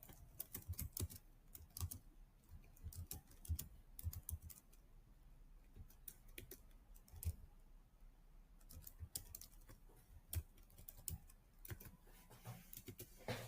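Quiet, close bursts of typing on a computer keyboard, with irregular clusters of key clicks separated by short pauses.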